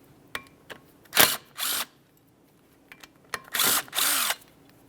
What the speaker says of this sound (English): Remove the brake rotor from the area by removing these 2 T40 Torx screws.